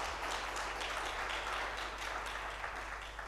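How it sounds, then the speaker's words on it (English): Steady, dense applause from a conference audience after a panel discussion at an agriculture summit, faint and even with no talking over it. "Please give them a big round of applause."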